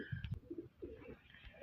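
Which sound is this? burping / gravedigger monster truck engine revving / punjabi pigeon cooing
punjabi pigeon cooing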